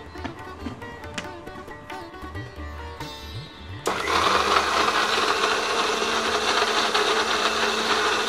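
Mixer grinder blending paani puri masala paste with a little water, Bangarpet style: a few seconds of quieter handling clatter, then the motor kicks in with a loud, steady, dense whirring roar that runs to the end.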